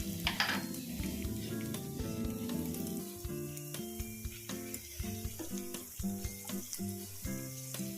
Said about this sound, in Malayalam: ഞാനിവിടെ കുറച്ച് അണ്ടിപ്പരിപ്പ് മുന്തിരിയും കൂടി ഒന്ന് വറുത്തെടുക്കുന്നുണ്ട് കേട്ടോ